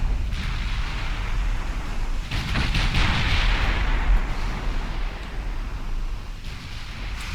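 Naval gunfire between capital ships in Ultimate Admiral Dreadnoughts: a dense, continuous rumble of heavy artillery with overlapping booms that swell into a louder barrage midway, with no talking.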